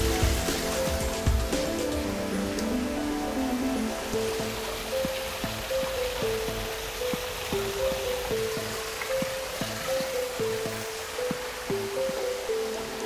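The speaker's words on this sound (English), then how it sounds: "a natural flowing water feature" Continuous rushing and splashing of a natural flowing water feature in a landscaped garden, a steady close wash of water with gurgling tones throughout, no voices.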